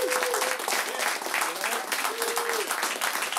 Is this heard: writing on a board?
no